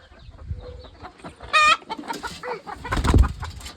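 A hen clucks while someone holds her on a farm, giving several short agitated clucks and a brief loud squawk at close range, with rustling and movement noise around her.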